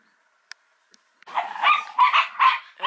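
A few faint ticks, then several small dogs break into rapid, high-pitched yapping barks, close and loud, overlapping in quick bursts.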